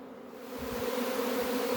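Honeybees from a swarm buzz in a dense, continuous drone at the hive entrance, a few stray bees among them. The buzzing swells slightly and holds steady, close and moderately loud, with no talking.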